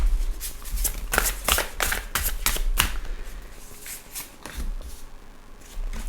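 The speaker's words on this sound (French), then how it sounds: "Les cartes glissent énormément ici." Tarot cards slide and riffle in a run of crisp bursts, several quick shuffles close by and fairly loud, with short pauses between them and no talk.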